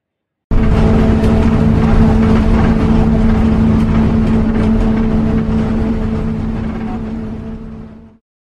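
Bus engine during a ride from Pune to Dehu: a loud, steady, rumbling drone that carries on unbroken for several seconds, then fades out, with no talk.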